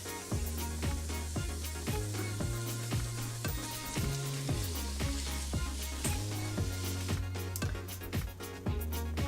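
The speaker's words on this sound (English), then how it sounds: "I went ahead and I browned up our sausage" Crumbled sweet Italian sausage, taken out of its casing and mashed, browns in a pan with a steady close sizzle, partly under a rhythmic backing track.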